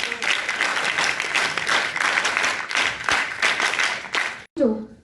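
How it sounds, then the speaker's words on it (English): An audience at an NCC ceremony honouring a chief guest gives a steady round of clapping that stops abruptly, followed by a brief voice. "Give a big round of applause."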